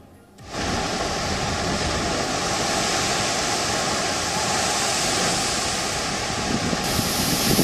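Rough Arabian Sea waves churn during Cyclone Tauktae near the Gateway of India in Mumbai, a loud, continuous roaring wash of surf that rises and never lets up.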